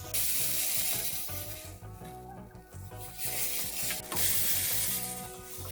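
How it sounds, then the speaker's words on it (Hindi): Okra (bhindi) fries in a pan for bhindi gosht, giving a steady close sizzle and crackle that runs the whole time, dipping slightly midway, with tonal music faintly underneath. "भिंडी कितनी अच्छे से फ्राई हो रही है"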